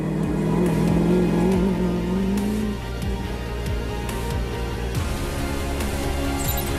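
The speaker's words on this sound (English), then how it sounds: "On his third Dakar, Pierre Lachambe is managing wonders in his Optimus buggy." An Optimus buggy racing in the 2015 Dakar Rally gives a loud, steady engine roar with a falling whine, then a continuous drone, heard close and without talk.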